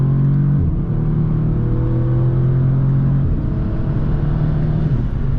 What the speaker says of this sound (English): we're gonna get a nice little pull here because we have all open highway